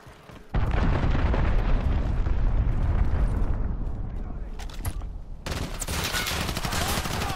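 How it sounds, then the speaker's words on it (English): Heavy explosion from an incoming cruise missile in Modern Warfare team deathmatch, a sudden loud blast swelling into a sustained rumbling roar with crackling debris, fading slightly before a second bright burst of noise. "Enemy cruise missile incoming,"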